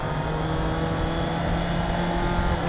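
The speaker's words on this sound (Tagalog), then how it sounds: "Ganda ng engine brake din niya oh." A Honda CB650 motorcycle engine braking, a steady loud droning engine note with dense exhaust rumble, close to the listener and without talk.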